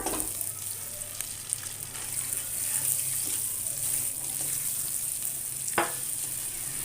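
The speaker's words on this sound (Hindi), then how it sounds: "अब मैं अंडों को इसके अंदर डाल दूंगी और फ्राई कर लूंगी हल्का सा।" Eggs fry lightly in two tablespoons of oil in a pan, giving a steady soft sizzle throughout with a brief clink partway through.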